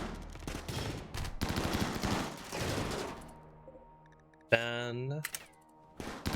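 Rapid bursts of gunfire in RimWorld crackle in dense volleys through the first few seconds, then a sharp shot and later clicks; someone speaks briefly over the game sounds.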